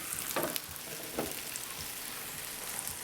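A T-bone steak sears on a Blackstone E-Series indoor griddle, a steady, close crackling sizzle that holds even throughout, with no voices.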